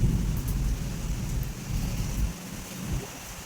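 Heavy rain pours steadily alongside deep rumbling thunder that swells and fades in long low rolls, loud and close throughout a stormy spell.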